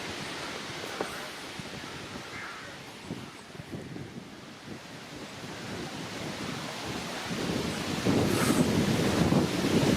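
Cold wind gusts across a countryside walk past tall hedges, rumbling against the microphone and building to a louder blast near the end, with no voices.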